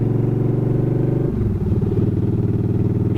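A motorcycle being ridden, its engine droning steadily and loud up close, shifting pitch midway as the bike changes speed, with no talk over it.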